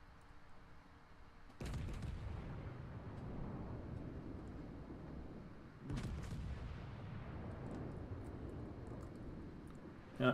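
Heavy naval gunfire from a destroyer shooting HE shells in World of Warships, two loud booming salvos that each roll into a long, rumbling decay over steady background noise.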